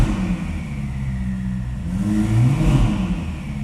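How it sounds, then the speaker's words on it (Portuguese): A Ferrari SF90 Hybrid's flat-plane crank V8 revs steadily from close by, its pitch rising and swelling louder partway through, with a low mechanical drone and no talking. "Eu começo a escutar aquela cadência típica de um motor V8 com virabrequim plano."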